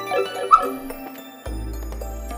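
Dog giving a couple of short, sharp yips and barks indoors over steady video game music and background tones, with one bark standing out clearly.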